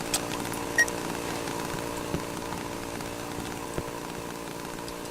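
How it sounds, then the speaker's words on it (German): In the horror video game Cry of Fear, a chainsaw drones steadily at a moderate distance, a constant buzzing engine rumble with a few faint clicks and no voices. "Und ich höre immer noch die Kettensäge."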